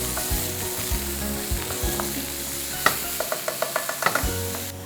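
Onions seasoned with salt sizzle steadily in a pan, with a series of quick stirring taps and scrapes near the end and no talking.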